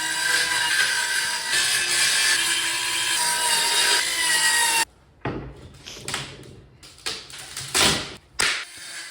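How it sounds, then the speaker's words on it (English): Power saw ripping through a wooden board and on into the sawhorse beneath it, a loud continuous whine for about five seconds, then cutting off into scattered bumps, scrapes and knocks of wood and tools. "The sound of my saw changed here."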